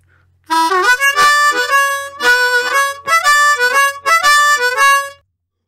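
A blues harmonica plays the note sequence from a song, 6 blow, 5 draw, 4 draw, 5 blow, then repeated, in loud clear phrases of sustained reedy tones with short gaps between them, alone.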